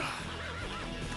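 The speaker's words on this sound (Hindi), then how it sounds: "क्या खूबसूरत घोड़ा है" A horse gives a loud, close, wavering whinny with a rising and falling pitch.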